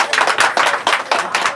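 An audience claps in short bursts of applause at a Hindi poetry recitation, several rhythmic waves of clapping close together.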